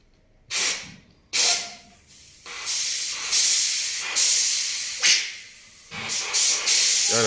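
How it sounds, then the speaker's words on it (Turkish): Compressed air is pumped into a Temsa Safir bus radiator submerged in water for a leak test. It comes as repeated loud, sharp hissing bursts, each starting abruptly and tapering off, with no talk. "İçerisine hava basıyor."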